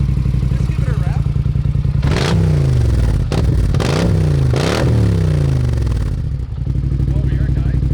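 A Polaris HighLifter 850 ATV fitted with an RJWC exhaust revs up several times close by, its engine note rising and falling over a steady idle.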